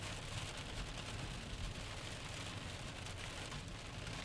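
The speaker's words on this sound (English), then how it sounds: "Raining hard in Muhammad." Heavy rain pours steadily during a severe thunderstorm, a dense, continuous rushing hiss of drops on surfaces with no voices and no distinct thunder.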